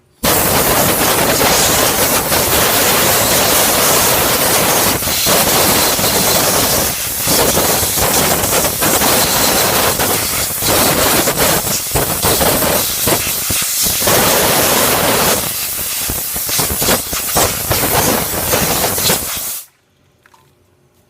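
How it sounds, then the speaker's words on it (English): Compressed air blasts water out of traps in loud, sustained hissing bursts with sputtering spray, continuous for about twenty seconds before cutting off abruptly into quiet. "Just going to turn them upside down and blow the air."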